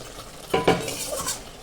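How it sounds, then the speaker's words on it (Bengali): Fish is added to a pan of partly cooked potatoes for a Bengali charchari, with two quick close thuds and a scrape followed by a soft sizzle. "এরপরে আমি মাছগুলো দিয়ে দিচ্ছি"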